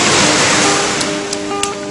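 Surf rolls in continuously at Singkil beach near a harbor, a loud close broadband wash of waves with no pauses and no voices.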